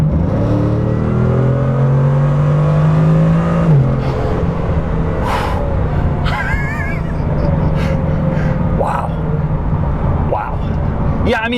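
A Bugatti Chiron accelerates hard at full throttle, its loud engine tone climbing steadily before a shift drops the pitch, then continuing to roar with wind noise while people talk in the cabin.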